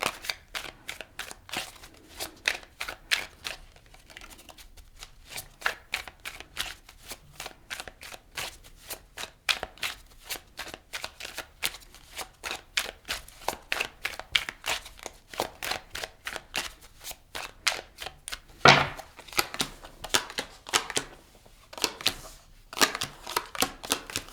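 Tarot cards are shuffled and drawn at close range, a long run of quick, crisp riffling clicks and flicks in steady bursts with brief pauses between them.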